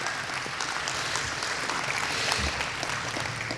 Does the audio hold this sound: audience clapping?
yes